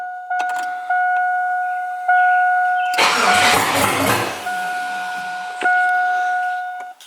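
An LS V8 swapped into a Chevrolet S10 cranks and fires with a loud, close roar, then drops back toward idle. Steady electronic tones run before and after the start.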